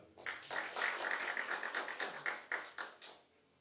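Audience clapping at an indigeneity seminar, a brief burst of hand claps that swells quickly and then thins into scattered separate claps as it fades out.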